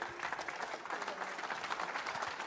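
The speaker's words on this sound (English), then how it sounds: "Give him a round of applause, please." An indoor crowd at a squash league grand final prize-giving applauds a junior medal winner: a short, steady burst of dense clapping, fairly close and even throughout.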